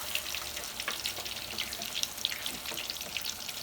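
Contents of a jar pour into a pan of cooked onion and garlic, giving a steady crackling, watery sizzle with scattered bright pops that holds at an even, close level throughout.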